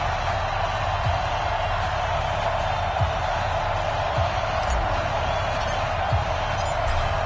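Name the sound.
stadium crowd cheering in a football video game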